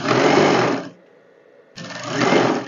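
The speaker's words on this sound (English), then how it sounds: "I'll place this other one on top of it and sew it down" A sewing machine stitches dress fabric pieces together while an A-line dress is sewn, running loud and steady in two close bursts with a short pause between them.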